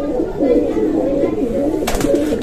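Close pigeons coo in continuous low, warbling rolls, with a short burst of rustling noise near the end.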